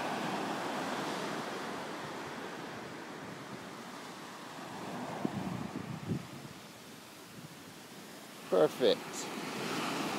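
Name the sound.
ocean waves breaking on the beach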